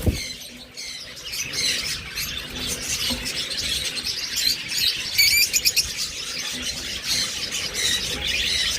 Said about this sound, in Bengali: এরপর এখানে রয়েছে চমৎকার এক জোড়া টিয়া